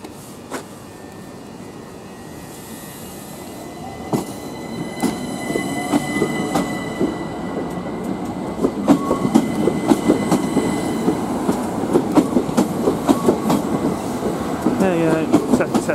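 Southern Class passenger train departing Eastbourne for Brighton via Lewes, wheels clicking over rail joints and building in loudness as it pulls away, close by, with some voices nearby.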